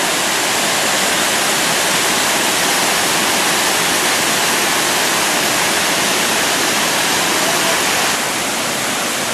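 A waterfall in a park near Cairns, Australia roars in a steady, dense, full-band rush of falling water, loud and continuous throughout with no voices.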